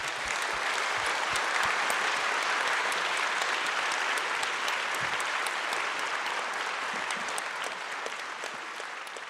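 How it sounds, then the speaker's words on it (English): Audience applause for an event with Yuval Noah Harari and Stephen Fry: dense, steady clapping from a large crowd that holds at an even level throughout. "I think you deserve a big applause"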